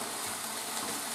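Bolognese sauce sizzling and frying in a pan while being stirred, a steady close hiss with soft scraping texture and a small clatter near the end.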